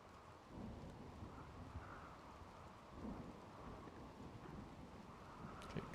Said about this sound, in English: We got rainy thunderstorm passing through.